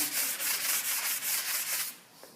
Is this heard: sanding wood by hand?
yes